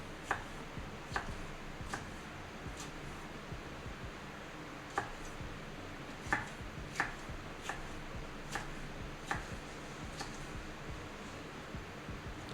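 A knife minces vegetables on a cutting board, with sharp chopping strikes in a loose, irregular rhythm over a low steady background hum, close and fairly quiet, with no voices.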